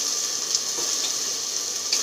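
Water pours into a pan of cooking chicken pulao masala, giving a steady bright hiss and sizzle, close and continuous, with no voices.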